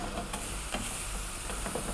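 Chicken tikka pieces held over an open flame give off a soft, steady sizzle and hiss, with faint crackles and occasional light knocks breaking through the continuous low frying noise.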